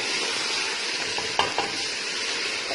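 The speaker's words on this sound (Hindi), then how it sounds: "ये देखें यहाँ पे मुझे इसे भूनते हुए 5 से 7 मिनट हो गए हैं।" Shaljam gosht, turnip and meat, fries in a pot, a loud, dense, continuous sizzle with a couple of brief scraping stirs partway through, no voices.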